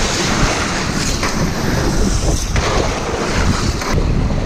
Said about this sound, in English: Hey, we broke through the ice.